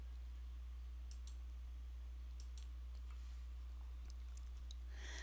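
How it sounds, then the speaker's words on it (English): A few sharp computer mouse clicks land on checkboxes, spaced apart over a low steady hum, with a quicker cluster of taps near the end; the clicks are faint and close, and no one speaks. "click on the checkbox and then select the pages that you want to print"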